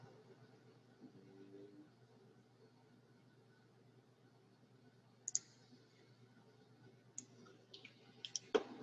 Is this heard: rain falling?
no